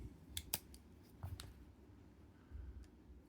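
Spare scissors for a Leatherman ARC multitool being handled, giving a few sharp metallic snips and clicks near the start and middle, then softer handling rustle, close and fairly quiet.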